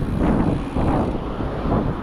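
Wind rushes and buffets steadily, a low roaring gust pressing close with slow swells in strength and no voices.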